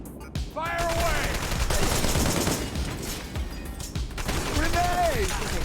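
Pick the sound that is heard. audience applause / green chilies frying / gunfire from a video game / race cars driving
gunfire from a video game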